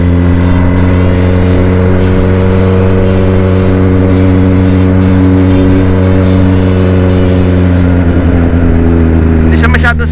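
A Kawasaki Ninja ZX-10R sportbike with its exhaust baffle removed idles and revs very loudly, a deep booming, slightly rough exhaust note sustained close by throughout.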